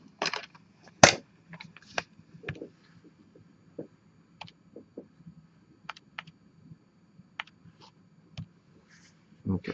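Calculator buttons pressed to enter numbers: scattered, close, crisp plastic clicks in irregular bursts, with quiet pauses between keypresses.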